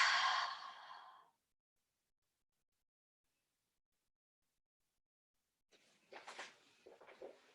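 A deep exhale during a yoga stretch is heard up close at the start. After a long silence, softer breathing sounds come back at the end.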